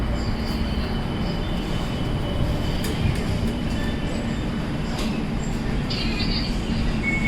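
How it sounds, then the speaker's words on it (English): A tram in Mauritius rolls into a station, with a steady rumble of wheels on rail, light clicks and brief squeals from the wheels. It is fairly close, with no clear talking. "Tram is entering now."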